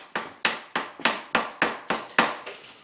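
A hammer chips at a hard block from a Dig It gem blind box, striking nine times in a quick, even rhythm. Each sharp, close tap stands alone with no talk over it.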